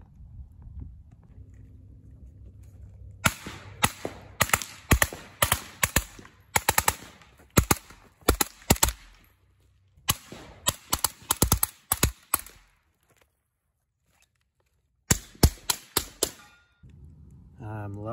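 A TPM Outfitters MP5SD factory short-barrel rifle with a SilencerCo Maxim 9 suppressor in short configuration fires rapid strings of sharp, clipped suppressed shots in several bursts, loud and close, separated by quiet gaps.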